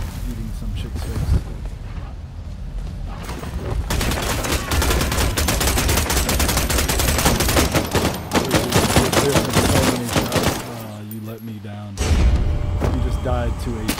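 Gunfire rings out in the video game Blood Hunt, loud repeated shots and bursts packed across the clip, mixed with other game effects and a brief lull near the end.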